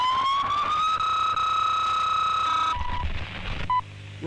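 A loud electronic siren holds a high steady tone, then cuts off abruptly, followed by a short beep and mechanical clatter.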